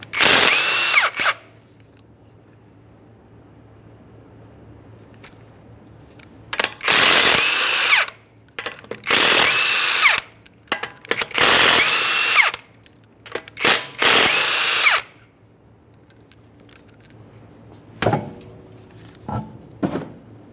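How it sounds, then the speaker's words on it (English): Power impact tool spinning off the 21mm lug nuts on a 2009-2014 Nissan Maxima front wheel, in several loud close bursts of a second or two separated by quiet gaps, followed by a short final burst. "we're going to remove all 5 of our 21mm lug nuts and we can get the wheel off of here"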